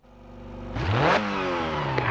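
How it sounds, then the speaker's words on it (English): Buggy engine in the Dirt 4 racing game revving up, the pitch climbing fast, then settling into a steady high idle with a faint clatter; loud, close and alone. "the revs are on"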